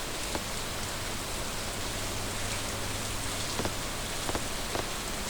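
Steady rain falls in the farming game Stardew Valley, a dense, even hiss of drops spattering on surfaces throughout, with a few sharper drip ticks standing out toward the end.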